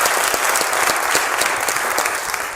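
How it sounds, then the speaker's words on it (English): An audience at a Cleveland NAACP branch swearing-in ceremony claps loudly and steadily, a dense, continuous wave of applause from a crowd. "let me hear you clap for the word dynamic."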